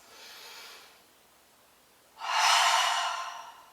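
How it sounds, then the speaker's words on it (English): A single deep breath drawn in through the nose during a qigong routine, a soft airy inhale that swells loudly after a quieter earlier breath, close and unaccompanied by talk. "Breathe in through your nose."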